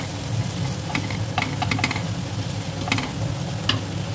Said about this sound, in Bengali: দিয়ে ভালোভাবে তেল ছাড়া পর্যন্ত এইভাবে কষে নেব।